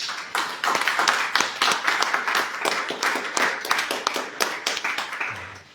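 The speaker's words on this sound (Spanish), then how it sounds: "Un aplauso entonces." A church congregation claps together in rapid, uneven rounds of applause that stay lively throughout, close and moderately loud, with a brief low thump near the end.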